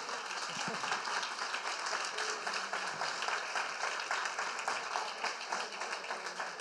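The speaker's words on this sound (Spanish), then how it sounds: "Un aplauso para Pamela." A theatre audience at a feminist comedy show in Madrid's Gran Vía claps steadily, a dense, even wash of applause that holds at a moderate level throughout.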